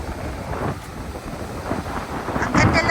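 Wind gusts across a microphone at a surf beach, a continuous low rumbling buffet that strengthens toward the end, with no talk over it.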